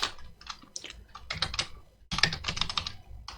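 Fingers typing on a computer keyboard, close and fairly quiet: bursts of rapid key clicks broken by a short pause, with no speech.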